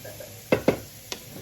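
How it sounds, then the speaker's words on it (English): A utensil scrapes and knocks against a pot on the stove while stirring food, two quick close strokes followed by a lighter tap over a faint kitchen background. "and then in these 2 pots, which I'll need to stir"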